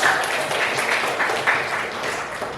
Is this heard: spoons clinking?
no